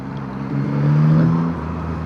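A Yamaha MT-09 motorcycle with Y-AMT automatic shifting accelerating, its engine note rising in a short, close, steady swell of throttle over about a second before easing off, with no talking.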